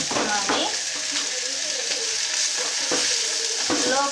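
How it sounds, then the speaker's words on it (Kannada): Coriander, curry leaves and onion stirred in a hot pan make a steady sizzle with repeated scraping strokes of a spoon, close and continuous. "ಸ್ವಲ್ಪ ಕೊತ್ತಂಬರಿ, ಸ್ವಲ್ಪ ಕರಿಬೇವು, ಆಮೇಲೆ ಸ್ವಲ್ಪ ಈರುಳ್ಳಿ, ಕರಿಬೇವು ಎಲ್ಲ ಮಿಕ್ಸ್ ಮಾಡಿ"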